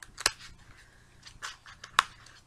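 Trading cards in Ultra Pro sleeves are shuffled by hand, giving a few quiet, sharp plastic clicks and slaps with soft sliding rustles between them, close and isolated.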